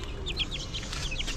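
Domestic chickens cluck in a quick series of short, soft calls against a low background hum, with no talking.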